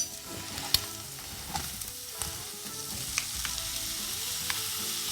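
Onions and tomatoes sauté in a pan for a Tamil-style crab (nandu) gravy, giving a steady close sizzle broken by several sharp spoon clicks and scrapes as they are stirred, with no talking.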